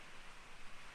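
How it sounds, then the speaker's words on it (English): Steady, soft rain hiss from a stormy day fills the background, a continuous wash of fine patter with no voices. "excuse the noise of the rain if you can hear it in the background"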